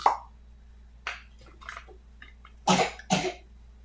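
A few sharp coughs, one early, then a pair of louder, harsher coughs near the end, close by in a quiet room with faint background hum.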